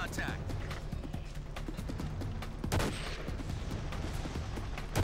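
Rifle shots in the video game Battlefield 2, with sharp reports over a constant low rumble of game ambience. The loudest burst comes near the middle, and fainter shots are scattered around it.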